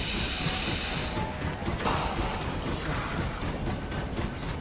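A train in the video game The Long Dark rolls to a halt, giving a steady loud hiss and rumble of rail noise with a faint clank partway through and no voices.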